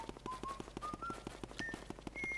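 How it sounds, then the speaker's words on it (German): Luigi whistling a short melody in the game Luigi's Mansion, thin clear notes stepping upward over a quiet rhythmic pulsing game background, faint and steady. "In der Zwischenzeit pfeift Luigi noch etwas, braucht etwas Unterhaltung."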